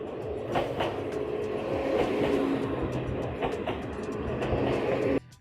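A train rumbles steadily past near a shrine on a day trip from Tokyo, Japan, with a continuous rolling roar and rattling wheels, then the sound cuts off abruptly at the end.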